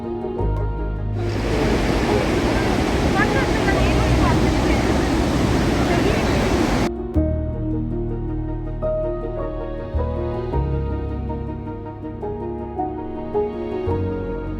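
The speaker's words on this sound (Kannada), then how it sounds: "ಅಗಲ ವಿಸ್ತಾರವುಳ್ಳ ಜಲಪಾತ ಅಂದರೆ ಬರಚುಕ್ಕಿ ಜಲಪಾತವಾಗಿದೆ" The wide Bharachukki waterfall at Shivanasamudra, about 69 metres high, gives a loud, steady broadband roar for roughly six seconds, then cuts abruptly to music.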